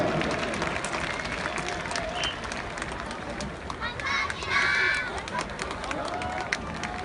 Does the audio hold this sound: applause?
yes